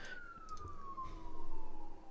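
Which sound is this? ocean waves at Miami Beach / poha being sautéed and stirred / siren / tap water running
siren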